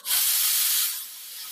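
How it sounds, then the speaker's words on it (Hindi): Pressure cooker whistling while rajma cooks, a single loud, sharp hiss of escaping steam that bursts in, holds strongly, then eases slightly before fading, heard alone. "8 सीटी कुकर में आ चुकी है,"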